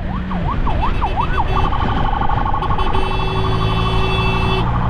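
An ambulance siren from a Bukittinggi brain hospital wails briefly, then switches to a rapid electronic yelp and steady tones, loud and close over traffic noise, heard from a motorcycle escorting it.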